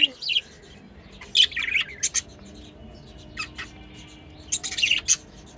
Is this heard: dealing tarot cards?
no